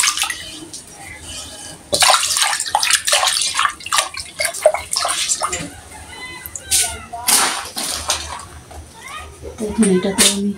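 Running water splashes steadily while something is washed under a tap in a home kitchen before cooking pumpkin with small fish, with a voice talking over it and children heard nearby.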